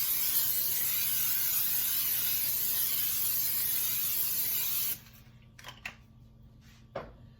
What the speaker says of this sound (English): I would like to go ahead and spray the surface with non-stick cooking spray.